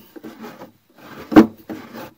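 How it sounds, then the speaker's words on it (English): A wooden drawer on wood runners waxed with candle wax is pushed in, giving three short scraping, rubbing slides with a firmer knock in the middle one, close by with no talking. "So now when you take your drawer and you stick it in"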